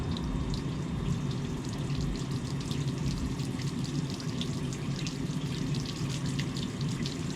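Water from a garden hose flushes steadily through a V6 Commodore's engine cooling system with the water pump and thermostat removed, a constant close splashing gush with light spattering, no voices.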